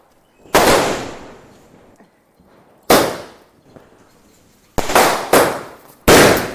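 Vishu firecrackers go off outdoors in sharp, loud bursts, a few spaced shots followed by a quicker cluster of bangs, each with a ringing tail.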